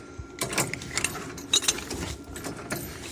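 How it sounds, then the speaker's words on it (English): Replacement bumper-pull jack on a Big Tex dump trailer being hand-cranked up close, with rapid ratcheting clicks and metallic gear rattles in uneven bursts over about three seconds. "And it cranks."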